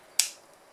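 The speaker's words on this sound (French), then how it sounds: "je fais un tout petit pic à l'aide de mes ciseaux" A single small snip of scissors into fabric beside a zipper, one short, crisp click close by, then quiet.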